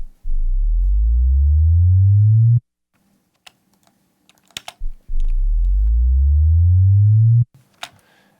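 A Sub Destroyer synth tone sweeps steadily upward in pitch for about two seconds, then stops abruptly; the rising sweep plays twice, with faint clicks and keyboard tapping in the gap between.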